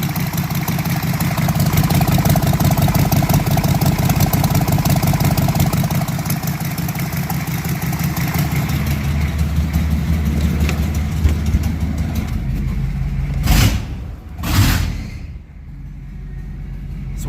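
A 1984 Chevy 6.2 diesel V8 in a pickup with hood stacks runs without an exhaust manifold, giving a loud, steady, rough idle with rapid pulsing clatter, then two brief sharp bursts near the end.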